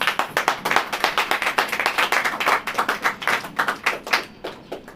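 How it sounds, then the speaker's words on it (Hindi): Congregation clapping hands during a Hindi-language Christian church worship service, a dense run of sharp, fairly rhythmic claps from many people, loud and close, with no talking. "अगर ऐसा है तो ताली बजाइए।"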